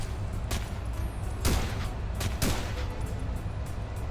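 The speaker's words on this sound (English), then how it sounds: "And they're shooting." Gunfire in the video game SOCOM US Navy Seals II during a mission, several sharp, separate shots at irregular intervals over a low constant background rumble.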